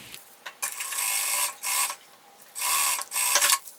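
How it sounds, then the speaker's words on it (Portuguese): A sewing machine stitches a thermal bag in several short bursts of rapid mechanical whirring, close and clear, with brief pauses between runs and no voices. "Costurei embaixo, agora eu venho nas laterais e costuro também."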